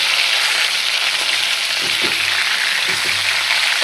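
Rui fish pieces fry lightly in a pan of oil for a bhuna, a continuous close hiss and crackle with a few soft clinks of a spatula in the second half, no voices.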